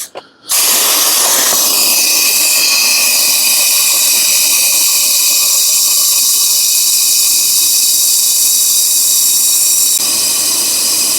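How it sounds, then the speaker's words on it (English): A suction pump draws used oil out of a John Deere S100 lawn tractor engine, starting after a brief thump and holding as a loud, continuous hiss with a steady whine until near the end. "Hold your ears, we're gonna suck this oil out."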